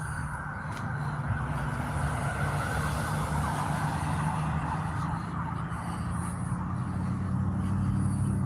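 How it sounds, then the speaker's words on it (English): An emergency vehicle with its siren on sounds from outdoors in Flint, Michigan, a steady wash of siren and traffic noise that stays loud throughout. "One just left out lights and siren."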